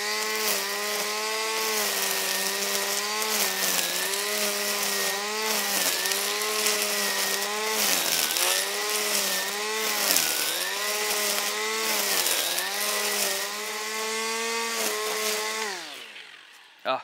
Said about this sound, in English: We'll give it a bump feed and then we'll rip into some heavy grass.